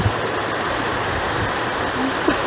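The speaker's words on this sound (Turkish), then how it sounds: "Normal bir yağmur yağmıyor." Heavy rain pours down in a thick, continuous rushing hiss, loud and even throughout the brief stretch, with no voices.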